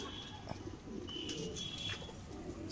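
A Madras pigeon, a female, coos softly at a distance over a faint background hiss, with low murmuring calls and no talk.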